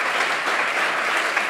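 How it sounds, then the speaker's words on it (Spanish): A brief burst of dense audience applause at a round-table science talk, steady and fairly loud with no voices over it. "un aplauso, por favor."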